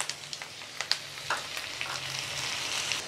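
Sliced tomatoes frying in a pan for coconut tomato chutney, a soft continuous sizzle broken by scattered small pops and spatters, heard fairly quietly and close with no voices.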